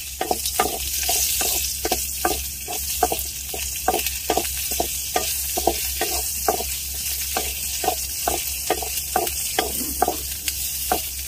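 Chopped onions fry in hot oil with garlic for chilli prawns, a steady sizzle broken by regular scraping strokes of a spoon stirring the pan, close and fairly loud with no voices.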